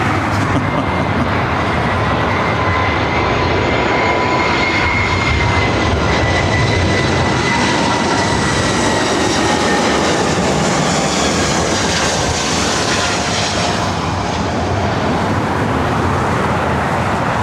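A KLM Boeing 787-9 jet airliner at Los Angeles airport thunders loudly and continuously, a dense engine roar with faint whining tones drifting in pitch as it passes, no talk over it.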